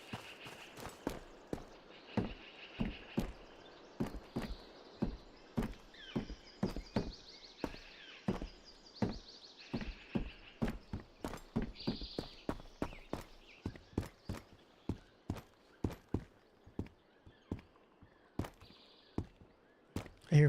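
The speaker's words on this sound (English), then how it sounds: "I hear footsteps." Footsteps in the shooter game Road to Vostok: a long run of crisp, evenly paced steps on a hard floor, fairly close and loud against a quiet background, with no talk.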